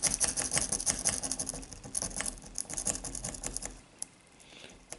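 A lock pick rakes rapidly across the pins of a Master armoured lock, making a dense, fast metallic rattling and scratching, close up and steady, easing off near the end.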